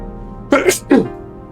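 Two quick sneezes from a nearby person, one after the other, each a sharp burst against a quiet, steady background hum.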